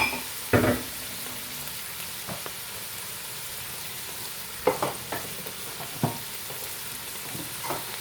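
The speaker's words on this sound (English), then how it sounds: "While I'm stirring the onions," Onions frying in a pan for chicken biryani, a soft steady sizzle under occasional scraping clicks of a utensil stirring against the pan.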